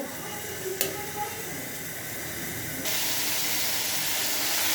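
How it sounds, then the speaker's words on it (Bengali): Onion frying in mustard oil in a wok for boal fish bhuna, a loud hissing sizzle that swells sharply partway through as the onion hits the hot oil, close and steady, with a brief clatter early on. "বোয়াল মাছটা ভুনা করার জন্য আমি যে কড়াইতে সরিষার তেল দিয়ে দিচ্ছি, আর পেঁয়াজটা দিয়ে দিচ্ছি"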